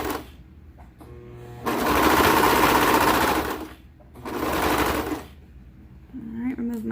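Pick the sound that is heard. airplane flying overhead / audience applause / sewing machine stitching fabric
sewing machine stitching fabric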